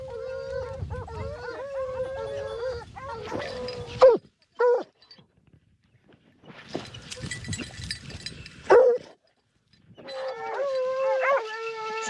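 A pack of French hunting dogs bays and howls in drawn-out cries while chasing wild boar, loud bursts separated by brief pauses, several dogs overlapping, with sharp louder yelps near four and nine seconds.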